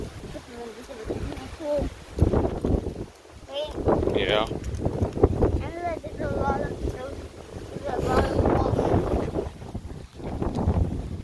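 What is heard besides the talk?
strong wind outdoors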